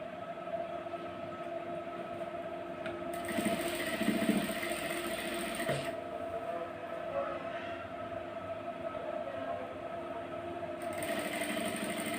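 Sewing machine stitching a blouse, a steady mechanical whirring with a constant hum running continuously, moderately loud and close, with a brief change in pitch partway through.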